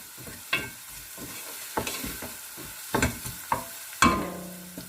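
Pork browning in a hot pan for Filipino hamonado, a continuous sizzle broken by several sharp pops and stirring scrapes.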